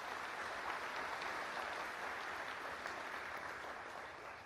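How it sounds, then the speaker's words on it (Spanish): Steady audience applause at a public policy lecture, a continuous wash of many hands clapping that stays even and fairly distant throughout, slowly fading toward the end with no voices over it. "Les pido también un aplauso para la CIDE"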